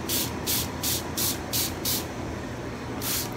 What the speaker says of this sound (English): we take our little misting bottle here. This is just some distilled water. You just spray them down.